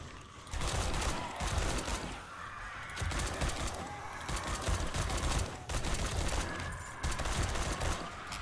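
Gunfire in the video game 7 Days to Die, heard as bursts of shots and clattering impacts in a dense, busy mix with short pauses between volleys.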